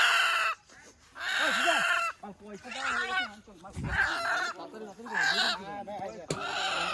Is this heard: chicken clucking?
yes